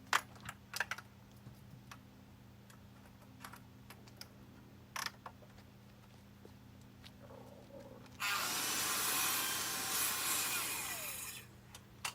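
A Festool portable mitre saw on its stand cuts through timber, a loud steady whir and rasp lasting a few seconds after scattered light clicks and knocks in a quiet room.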